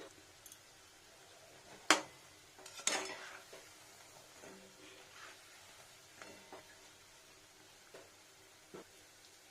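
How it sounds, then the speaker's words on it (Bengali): Gaja pastry made from flour dough frying slowly in oil over low heat, a soft steady sizzle punctuated by a few sharp clinks of a utensil against the pan, with occasional quieter taps. "দেখুন কত সুন্দর ফ্রাই হচ্ছে"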